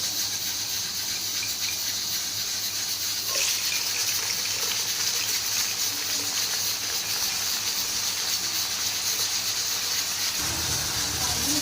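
Onions frying in hot oil in a kadai while cooking beef white karahi, a steady close sizzle and hiss running throughout with a low hum beneath it.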